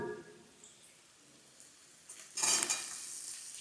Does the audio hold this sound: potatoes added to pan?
yes